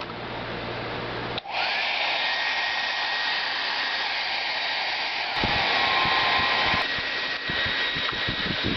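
A cheap Walmart hair dryer clicks on and blows a steady, loud whirring roar while serving as a heat gun on a bare-metal M1911-A1 pistol. Its tone shifts slightly partway through.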